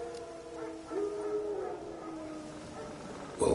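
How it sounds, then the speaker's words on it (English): Wild dogs howl in The Witcher 3 video game, a faint, drawn-out howl rising from ambient background noise, with a sharper sound at the very end. "Wild dogs. Yes. More dangerous than wolves."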